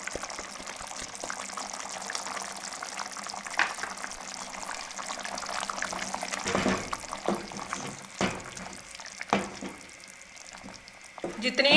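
Lahori chicken and chickpea gravy bubbles and cooks in a pot, a steady close simmering hiss with occasional louder bubbling and clatter toward the end, at moderate volume with no voices.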